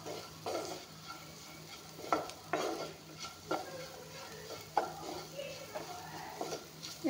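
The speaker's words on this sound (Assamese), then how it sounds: "এতিয়া পটলখিনি অলপমান ভাজি ল'লোঁ।" Pointed gourd (potol) frying in a pan, stirred now and then, with a soft sizzle beneath repeated clinks and scrapes of a utensil against the pan.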